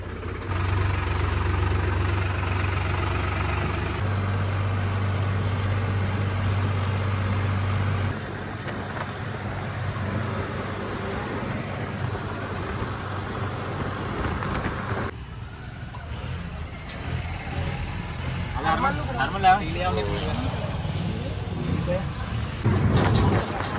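A tractor hitched to a trolley for hauling fodder idles with a low, steady engine rumble that drops in level partway through, while people talk over it.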